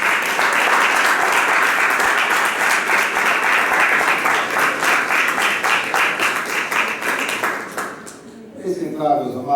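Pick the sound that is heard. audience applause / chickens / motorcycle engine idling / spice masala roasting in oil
audience applause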